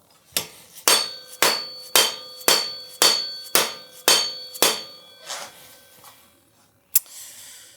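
A hammer strikes a tight nut on a Yamaha Blaster 200 ATV under restoration: about ten sharp metallic whacks in a steady rhythm, close and loud, slowing and softening toward the end, then one final isolated hit.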